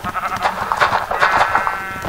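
Blocky Minecraft sheep bleat repeatedly in quick, wavering calls, several overlapping bleats filling a short stretch at close range with no talking.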